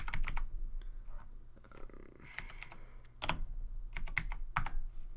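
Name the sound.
typing on a computer keyboard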